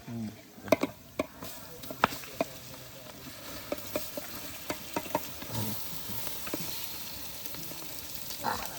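Food is stirred in a pot over a fire during a traditional Konkan village ritual, with sizzling and irregular scraping clacks of the ladle, outdoor ambience and occasional talk nearby.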